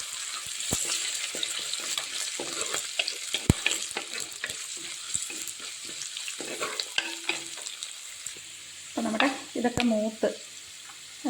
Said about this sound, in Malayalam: ഇപ്പം നമ്മുടെ ചട്ടി ചൂടായി നമുക്ക് ഉലുവ ഇട്ട് കൊടുക്കാം